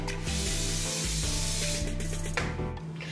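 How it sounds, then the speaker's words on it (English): A continuous hiss of hairspray being sprayed runs throughout, close and fairly loud over a low humming background. "And don't forget to spray."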